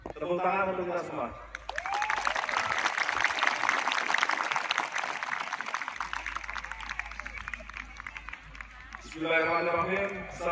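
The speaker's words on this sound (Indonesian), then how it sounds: "Tepuk tangan untuk kita semua." Audience applause at a Santri Day ceremony at an Islamic boarding school in Pemalang: a sustained, fairly distant wash of many hands clapping for several seconds, with a voice speaking just before and after.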